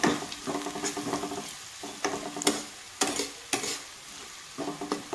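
Onions frying lightly in a pan, a steady sizzle broken by repeated scraping stirs of a spoon, close and fairly loud with no talking.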